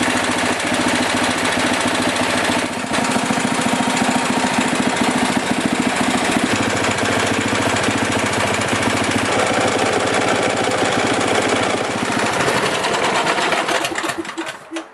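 A reassembled Briggs & Stratton snowblower engine with a replaced camshaft runs steadily at a fast, even clatter, loud and close, before cutting off and winding down near the end.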